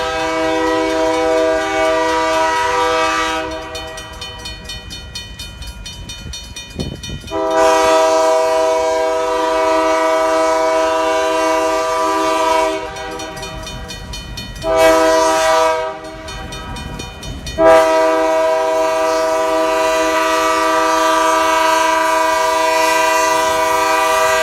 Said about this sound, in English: We see Great Lakes Central GP38-2, number 398, with 4 loaded center beams